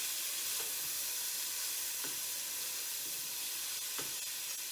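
Garlic sizzling in a hot pan while being stirred, a steady soft hiss broken by a few light scraping strokes of the spoon, fairly quiet and close.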